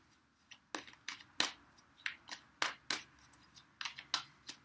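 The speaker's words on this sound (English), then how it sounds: "I'm just going to do a little bit more shuffling and then cut the cards again" Tarot cards being shuffled and cut by hand, heard as a string of soft, crisp riffles and taps, about a dozen short bursts in uneven rhythm, close and fairly quiet.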